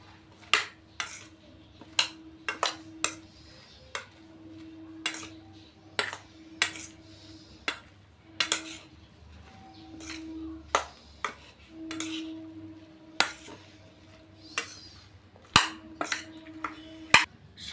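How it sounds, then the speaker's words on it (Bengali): A utensil stirring and mixing soy chili in a pan gives sharp metallic clinks and scrapes at an uneven rhythm, about a dozen distinct knocks over a quiet background with a faint steady hum. "এবার সব কিছু একসঙ্গে ভালো করে মিশিয়ে নিচ্ছি"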